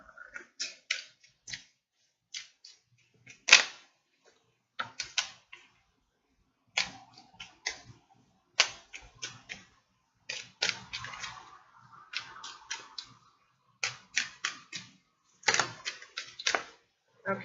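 Tarot cards being shuffled by hand come through as crisp, close, intermittent snaps and flicks in short irregular bursts separated by quiet gaps.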